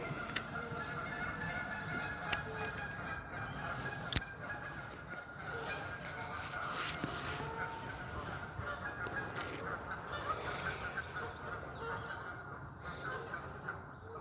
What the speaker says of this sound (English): Oh, geese are noisy this morning.